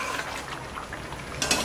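Chicken korma gravy with ground cashew and almond paste frying in a pan, a steady close sizzle and bubbling that runs throughout, with a brief brighter hiss near the end.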